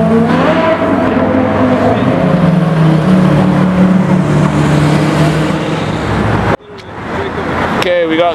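A Porsche Carrera GT supercar engine revs hard among other supercars on a city street, a loud, sustained roar that cuts off abruptly, then the car passes by with a rising whine. Voices can be heard in the background.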